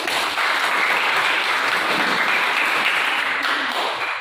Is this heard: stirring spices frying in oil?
no